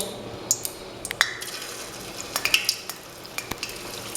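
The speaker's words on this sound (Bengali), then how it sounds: "এবার তেলটা গরম হয়ে গেলে তারপরে গোলাপ জামুনগুলো ভেজে নেব" Semolina gulab jamun fry in moderately hot oil in a kadai. A soft, low sizzle runs under scattered sharp clicks and taps of a utensil stirring against the pan.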